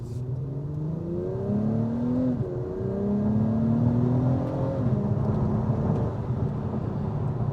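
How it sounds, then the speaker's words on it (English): A 2023 Acura TLX Type S accelerates, heard from inside as a steady engine and exhaust drone with rising pitch sweeps as it climbs through gears, one noticeable shift midway, under a constant layer of road and wind noise. "Hopefully you can get a good sound of the exhaust on this model."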